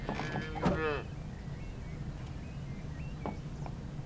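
A cow moos once in the Barnyard video game, a short harmonic call near the start over a steady low background hum, followed by faint scattered game sounds.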